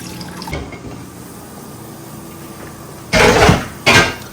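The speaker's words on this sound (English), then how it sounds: "I'm just gonna pour it inside my cooking pot" Hot water and mixed stock poured into a cooking pot, a close splashing gush in two short bursts, the second briefer, after a quiet kitchen lull.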